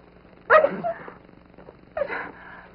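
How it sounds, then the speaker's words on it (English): Two sharp, breathy sneezes about a second and a half apart, close by, each a sudden burst followed by a short fading tail. "it makes me sneeze"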